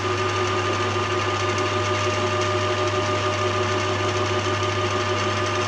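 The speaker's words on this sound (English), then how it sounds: "it'll take a facing cut off that" A metal lathe taking a facing cut gives a steady, even mechanical whine and hum that runs without a break at close range, with no voices.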